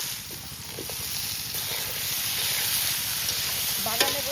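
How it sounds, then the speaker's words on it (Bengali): Cumin seeds hitting very hot oil in an outdoor garden cooking setup, a sharp close sizzle that swells and holds steady with stirring scrapes, alone without talk. "খুবই গরম হয়েছে, জিরে দিয়ে দিচ্ছি।"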